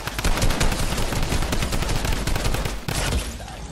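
Rapid sustained bursts from a drum gun in Fortnite, loud and close, a dense stream of shots with a brief break near the end before firing resumes.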